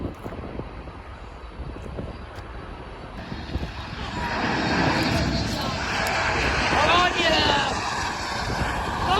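An Atlas Air cargo jet airliner, a former Polar Air Cargo DHL freighter, roars at Miami International Airport, its engine noise swelling from distant to loud and sustained, with wind buffeting and people talking underneath.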